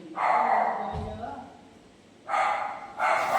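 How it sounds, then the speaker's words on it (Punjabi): A dog barks in a few short bursts, with a gap between them, fairly close and fairly loud. "ਭੌਂਕਣ ਲੱਗ ਗਿਆ ਵਿੱਚ ਉਹਦੀ ਆਵਾਜ਼ ਆ ਰਹੀ ਹੈ"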